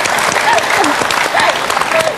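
Sustained applause from a studio audience at a Chinese television talk show, a dense, steady wash of clapping with some voices mixed in throughout.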